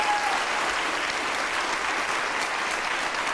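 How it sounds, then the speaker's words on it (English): A studio audience breaks into sustained, dense applause, loud and steady throughout with a faint crowd murmur underneath. "Momentous applause from the audience"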